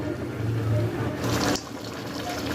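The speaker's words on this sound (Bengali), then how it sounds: "অল্প অল্প করে ঝোলের পানি দিয়ে দিচ্ছি সিদ্ধ হওয়ার জন্য" Water poured a little at a time into beef curry cooking in a pot, a steady liquid rush that swells briefly before settling into a softer trickle and simmer.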